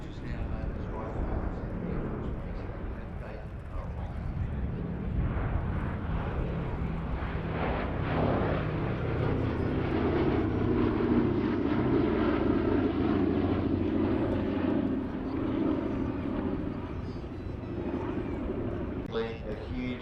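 Boeing B-17G Flying Fortress bomber passing over at the Midlands Air Festival 2024, a deep, steady propeller engine drone that swells toward the middle and then fades, with a commentator talking over it throughout.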